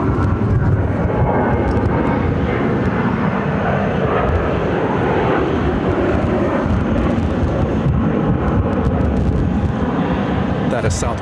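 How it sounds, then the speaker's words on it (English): A Southwest Airlines jet, flight 2268 bound for Buffalo, roars steadily at Phoenix airport in gusty wind, a loud broadband engine rumble sustained throughout with a voice speaking over it. "That is Southwest Airlines Flight 2268 headed to Buffalo."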